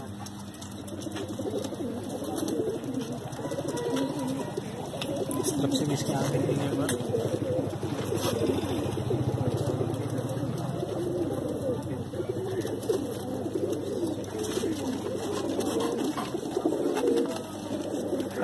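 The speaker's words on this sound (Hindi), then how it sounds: "कलदुम्मा कबूतर है ये" Kaldumma pigeons, the black-eyed breed, coo in low rolling murmurs close by, a near-continuous soft throaty rumble under someone speaking Hindi.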